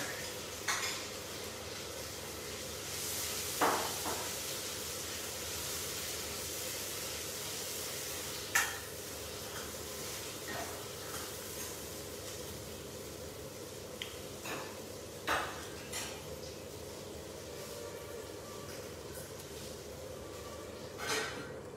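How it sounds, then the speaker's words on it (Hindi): Masala spices are roasted in a pan over a low flame, with faint sizzling beneath occasional clinks and scrapes of a spoon stirring against the pan. "इस मसाले को हम सिम पे ही भूनेंगे, जिससे कि मसाले में ना तो कच्चापन रहे और ना मसाला जले।"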